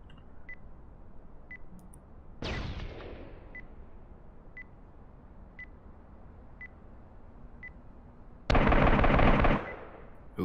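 Gunfire in the tactical multiplayer shooter Due Process: two loud, sharp bursts of shots, one around the middle and a longer one near the end, separated by quiet game ambience with faint periodic beeps.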